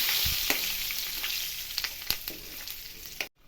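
Curry leaves and spices crackle and sizzle in hot oil for Gujarati vegetable khichdi, a steady close frying hiss dotted with sharp pops, ending suddenly.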